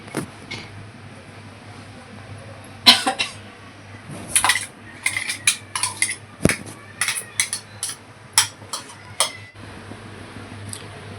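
A kadhai set down on a stovetop while besan vade bhaji are being made at home, heard as a burst of metallic clanks and scrapes, several sharp knocks of metal cookware spread over a few seconds, close and fairly loud.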